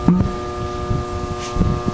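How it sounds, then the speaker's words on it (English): The contactor coil on a Kohler emergency light plant gives off a steady electrical buzz that holds at a constant pitch, heard close with gusty wind rumbling underneath. "That buzz you hear is the coil holding this side of the contact closed."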